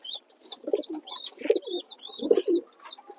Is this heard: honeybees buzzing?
no